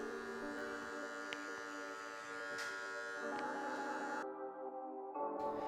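Electric hair clippers set at a 1.5 guard with the lever at three-quarters blend a beard fade, giving a steady close buzzing hum with slight shifts as the blades move through hair.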